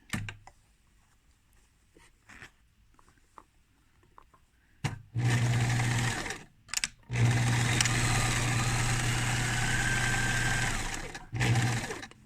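A sewing machine runs in bursts while stitching the hem of a tiered lolita dress. Quiet handling and clicks open the sequence, then loud close whirring runs of stitching follow with short pauses between them.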